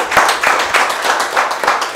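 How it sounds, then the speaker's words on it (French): A crowd at a live stage show claps in a brisk, loud round of applause, the hand claps dense and close with a loose, slightly rhythmic pulse. "Ça s'applaudit, s'il vous plaît, mesdames et messieurs."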